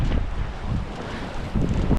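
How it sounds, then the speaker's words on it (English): Steady wind buffets the microphone aboard a sailboat making about 6 knots, with a continuous low rushing roar and gusty swells that strengthen toward the end, and no talking. "Okay, so we've got a good wind."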